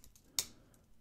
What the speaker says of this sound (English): need to be typing down here.